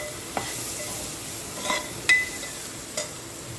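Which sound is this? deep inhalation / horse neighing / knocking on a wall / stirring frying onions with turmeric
stirring frying onions with turmeric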